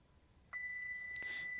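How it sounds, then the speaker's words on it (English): Avionics power-on beep in a flight simulator game, set in a single-engine light aircraft cockpit at night: one sustained, clean electronic tone that starts abruptly and holds steadily, quiet and alone. "Beep."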